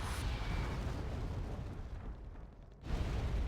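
Artillery in the real-time strategy game Wargame: AirLand Battle, a sustained loud rumbling roar of impacts that thins out briefly before another heavy blast hits, without speech.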